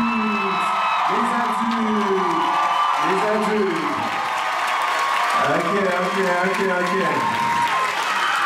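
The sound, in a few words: audience cheering and applause at a dance show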